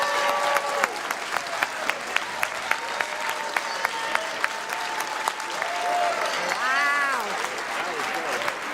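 An audience applauds steadily after a singer finishes the national anthem at a State of the District event, a dense, sustained wash of clapping with a voice calling out partway through.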